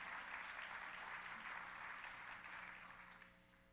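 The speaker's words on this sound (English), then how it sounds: "Teachers need more money, and you certainly can clap on that." Audience applause at a CABE 2015 education conference, a broad steady crowd clapping that holds evenly for several seconds and then slowly thins and fades toward the end, with no talking over it.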